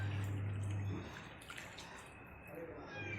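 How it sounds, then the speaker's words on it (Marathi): About a tambya of water is poured into a cooking pot of mutton being prepared; a steady rushing splash runs for a few seconds at close range, with a low hum underneath. "आपण त्याच्यात 1 तांब्याभर पाणी टाकणार."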